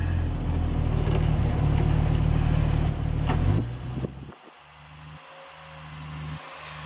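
A 1972 Triumph TR6 engine runs outdoors on a cold day, loud and steady with a revving rise before dropping to a quieter, rhythmic idle with periodic pulses.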